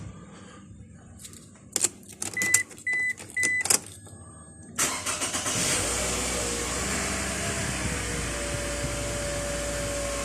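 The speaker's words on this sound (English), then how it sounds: "we'll go and try it in the car. See if the car starts." A Toyota Alphard tested with a freshly cut key: a few sharp clicks and three short electronic beeps sound in a quiet cabin, then the engine cranks, catches and settles into a steady close idle.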